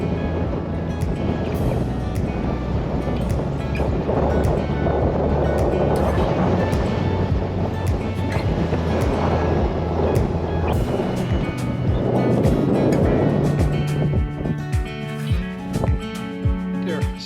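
Strong wind blows across the rocky coast of the Dingle Peninsula in Ireland, a continuous loud roaring buffet with gusty swells throughout.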